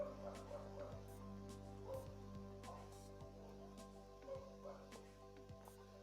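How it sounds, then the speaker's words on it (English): Several dogs bark intermittently in the background, short yips and woofs scattered across the stretch, fairly distant and under a steady low hum with a voice talking. "I apologize for the dogs barking in the background."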